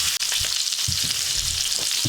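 A steady, close sizzle and crackle of meat searing in a hot pan, loud and continuous, with a few soft clinks and shifts of the pan underneath, no voices.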